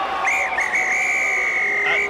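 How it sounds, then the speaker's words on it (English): Hooter sounding at the end of a 2008 Batley versus Barrow Raiders rugby league match, a loud sustained high wavering tone held for about two seconds over stadium crowd noise. "The hooter sounds."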